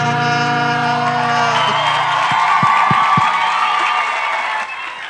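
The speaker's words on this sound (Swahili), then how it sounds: "Makofi nduru na nderemo wewe" A crowd at a democracy and human rights festival cheers, whoops and claps loudly after a sustained musical tone, with the noise tapering off at the close.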